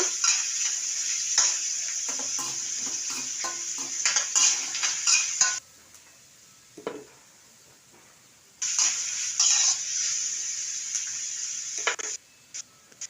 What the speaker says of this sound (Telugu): ఆవాలు కరివేపాకు ఆనియన్ వేసి వేయించుతున్నాను అదో బ్రౌన్ కలర్ వచ్చే వరకు వేయించుకోవాలి కదా దానికే కలపెడుతూ ఉన్నాను